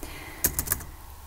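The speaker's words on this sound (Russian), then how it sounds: "уменьшать квадратными скобками на клавиатуре сразу другой рукой" Three quick clicks of the bracket keys on a computer keyboard, pressed close together in a short burst and then quiet, heard alone.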